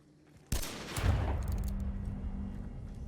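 Gunfire in the video game Hunt: Showdown, one loud sharp report followed by a rolling echoing tail and a few quieter follow-up bursts, with no talking.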